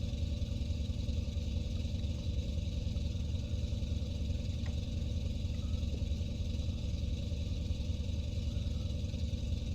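Antonov An-2 biplane at full throttle in Microsoft Flight Simulator 2020: a continuous, steady low radial-engine drone with a pulsing throb, unchanging throughout, with no talking.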